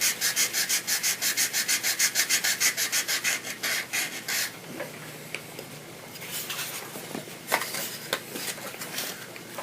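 A wooden biplane model is sanded by hand with fine sandpaper, up close, starting with fast even rhythmic rasping strokes, then turning into slower, irregular scratches and rubs.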